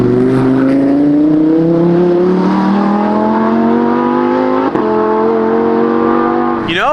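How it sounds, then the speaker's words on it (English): Sports car with stock exhaust revving, a loud, close engine note climbing steadily in pitch over several seconds, briefly dipping, then dropping off sharply at the end as the throttle is released. "You know, for stock exhaust, that car does not sound bad."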